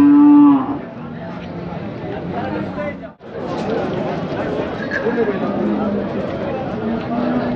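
A bull at the Chakan cattle market gives a loud, close moo at the start, followed by a crowded bazaar with people talking and further lowing cattle in the background.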